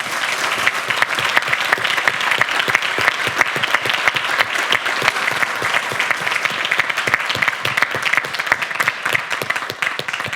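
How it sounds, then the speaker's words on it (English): Conference audience applauding a speaker at a VoIP technology event, a dense sustained burst of many hands clapping in a hall, loud and continuous for about ten seconds with no talk over it. "A big applause to Daniel."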